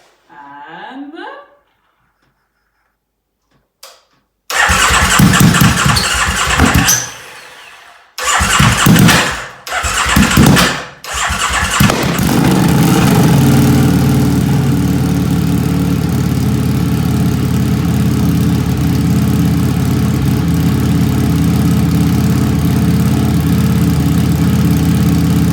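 An EBR 1190 RS superbike, a motorcycle, cranks in short bursts, then fires up and settles into a loud, steady, close idle that holds to the end, with no talk over it.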